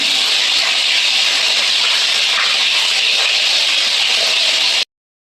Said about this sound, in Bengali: আবার এই দেখো এই মাছগুলো দিলাম, এগুলো ভেজে নিচ্ছি।